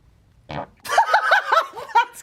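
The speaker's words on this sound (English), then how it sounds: "That one was a fart." A short blast followed by a rapid run of bubbly, sputtering fart noises close by, loud and wet-sounding, ending with a brief burst.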